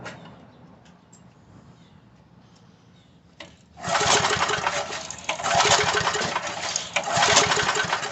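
Coleman Powermate 2000 watt PM54-2000 generator, frozen and flooded, coughing through weak pulls before its small engine catches and roars loudly at steady speed for several seconds, with faint birds beforehand.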